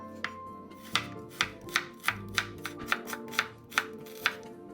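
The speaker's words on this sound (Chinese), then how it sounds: "洋葱一样切丝。" A knife slices onion into thin strips on a board, about eleven crisp, evenly spaced chops close up in a quiet kitchen.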